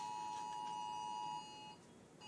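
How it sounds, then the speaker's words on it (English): A nationwide cell phone emergency alert sounds as a steady electronic tone with a faint higher pulsing layer, holding for over a second before dropping to a quieter, fading beep, with no talk over it. "It's the cell phone alarm."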